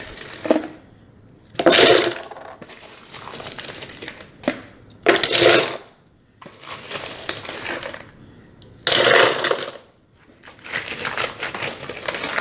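Copper pennies pour in several loud, jangling bursts onto a scale, separated by quieter stretches of coins clinking and settling.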